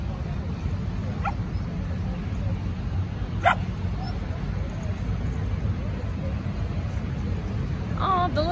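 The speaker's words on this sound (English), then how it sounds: "She wants to play with that little Shiba there." Dogs at play outdoors, one of them a small Shiba, give a few short yips and whimpers at a moderate distance over steady low background rumble.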